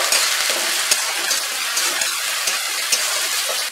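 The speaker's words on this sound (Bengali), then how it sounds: "এবার আদা রসুনটাকে আমি ফ্রাই করে নেব মাঝারি আঁচে 2 মিনিট মতো।" Ginger garlic paste frying over medium heat for chicken khichuri, a steady hiss and sizzle with occasional scraping stirs and soft crackles, close and continuous throughout.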